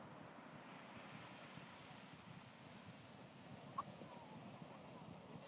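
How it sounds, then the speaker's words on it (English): Ocean surf rolls steadily beneath wind buffeting the microphone out at sea, a low continuous wash with a couple of faint knocks near the end and no clear speech. "Check out the waves."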